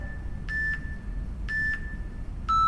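Workout interval timer beeping, three short electronic beeps spaced about a second apart, the last at a lower pitch, clear over a quiet background.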